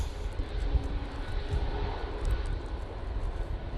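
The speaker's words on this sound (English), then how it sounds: "Next in will be the Singapore Airlines A350-900 coming in from Singapore, obviously." A Singapore Airlines Airbus A350-900 arrives at windy Manchester Airport, its engines giving a steady, moderately distant roar with broadband wind rumble throughout, with no voices over it.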